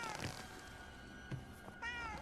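A cat meows a few times in the Junji Ito Maniac horror video game, with soft, fairly faint cries separated by short pauses.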